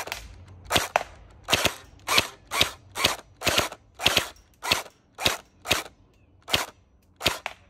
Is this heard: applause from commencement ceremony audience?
no